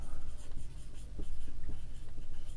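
A pen writing on paper close up, with steady rhythmic strokes and scratches, some taps between them, during a Class Nine maths lesson.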